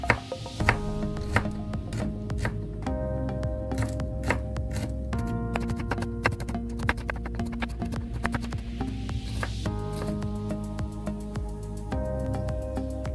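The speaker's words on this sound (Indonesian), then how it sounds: "Lalu iris-iris juga bawang merahnya." Shallots are sliced with a knife on a board in rapid, steady chopping taps, close up, with a constant low background hum and no talk.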